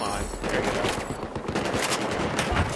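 Gunfire in the video game Battlefield 4: rapid, dense bursts of automatic shots crackle continuously and loudly, overlapping one another.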